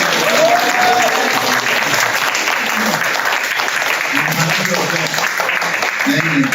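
Applause from a Korean church class audience, a continuous even patter of many hands, fairly loud, with faint voices briefly under it.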